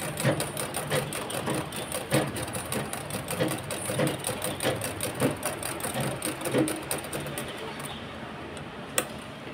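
A two-in-one picot-fall sewing machine stitches in a fast, even mechanical clatter with rapid ticking beats. It runs loud and close, without pause, and ends in a single sharp click.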